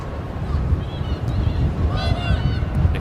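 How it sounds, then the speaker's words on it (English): Gusty wind buffets the microphone at a stadium during an England versus Austria women's football qualifier, a heavy low rumble throughout with faint crowd and a commentator's voice beneath. "If you weren't aware, it's windy on Weir side."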